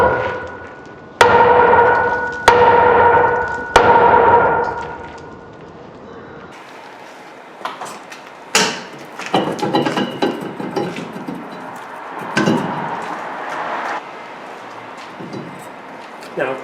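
A hammer taps brake parts during a rear brake and rotor job on a 2007 Chevy Silverado. Three sharp, ringing metallic strikes come first, then scattered lighter knocks and clatter, with someone talking over parts of it.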